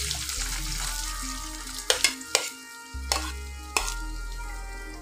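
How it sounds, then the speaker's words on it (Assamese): Finely chopped onions fry in hot oil for a fish curry, giving a steady sizzle with a few sharp spatula scrapes and clatters against the pan, close and without talk. "আৰু এতিয়া মই একেখিনি তেলতে দি দিম এয়া মই মিহিমিকৈ কুটি লোৱা পিঁয়াজ"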